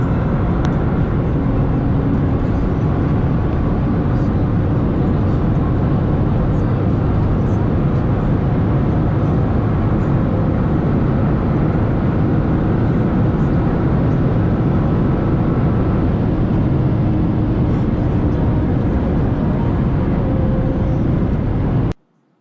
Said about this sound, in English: here is a short clip of the POV driving of the Nissan GTR